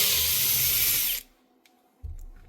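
Bosch hammer drill being used to back screws out during a repair of a faulty part, a loud steady whirring for about a second before stopping abruptly, followed by a faint click and a brief low thump.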